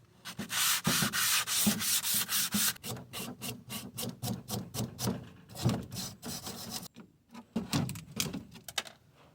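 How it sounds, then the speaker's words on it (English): Rhythmic scratchy strokes of 220-grit sandpaper rubbing across a Chevrolet C10 truck vent window part, close and fairly loud, in quick repeated passes with brief pauses. "Yeah, we'll just start sanding"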